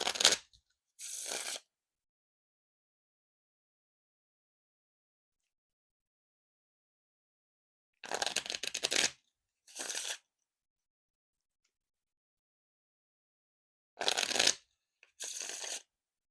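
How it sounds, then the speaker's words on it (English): Three pairs of shuffling bursts from a Fantastique v2 playing card deck separated by silence: a crisp riffle followed by the fluttering cascade of a bridge, close and clear. "And now time for the Riffle Shuffle or Bridge Shuffle."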